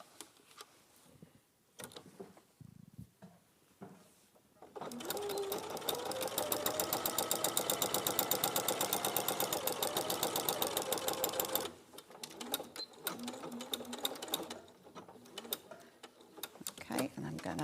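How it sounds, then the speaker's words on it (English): A sewing machine top stitches the bottom edge of a piece, running in a fast, steady rhythmic whir for several seconds between quieter handling and a voice talking before and after. "we're just going to top stitch this bottom edge just here."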